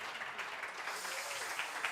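Brief burst of audience clapping for the judges at a UK barista championship semi-final, a steady even patter of many hands, fairly soft and continuous throughout.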